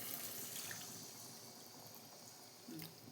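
Water is poured into a pan of braising chicken, a soft, continuous hissing trickle that is fairly faint and stays steady for a few seconds.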